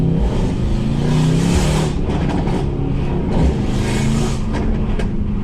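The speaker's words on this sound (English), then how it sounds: "it pops, bangs, blurbles in every gear." A loud, tuned Mercedes-AMG C63 S with straight-piped, catless downpipes rumbles and revs nearby, the deep exhaust note rising and falling with a few crackling pops, no voices.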